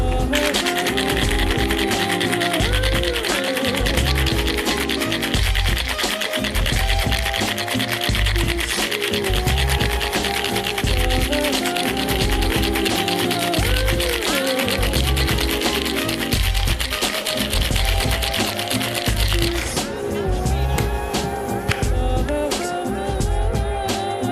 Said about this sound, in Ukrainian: І взбиваємо методом шейк